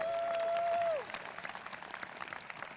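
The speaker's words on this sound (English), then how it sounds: "give them another round of applause for their speeches tonight" Graduation audience at Randall High gives a round of applause for student speeches, a steady patter of many hands clapping; a sustained tone sounds over it for the first second before the clapping continues alone.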